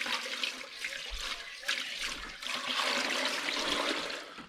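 Limewater pours steadily into a bucket of eggs, a continuous splashing, gurgling stream that stays at moderate volume for several seconds with slight surges.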